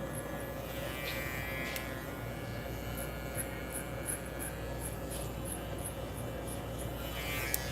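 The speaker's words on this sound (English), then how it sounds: "because of the sound this clipper makes, I could almost do this blindfolded" An Andis Exo Trimmer II hair clipper buzzes faintly and steadily while cutting hair, with small scattered snipping ticks over a low hum.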